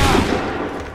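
A loud volley of musket fire in Assassin's Creed III, a massed blast at the start decaying into a rumbling roar over about a second.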